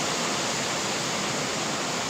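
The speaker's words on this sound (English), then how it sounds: "This is just the rain water on the ground whenever it stops raining." Rainwater running steadily across the ground the day after a typhoon in the Philippines, a dense, continuous rushing wash like a stream, close and unbroken with no talk.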